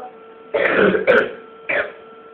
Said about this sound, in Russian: кашель душит